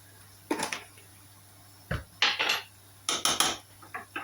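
A spoon mixing chutney of red chilies and pink salt in a bowl, a few short bursts of scraping and clinking at close range, separated by brief pauses, with no voices.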